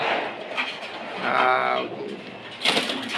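Pigeons coo in low, throaty bursts, a rolling call rising mid-clip amid light background noise and a brief burst near the end.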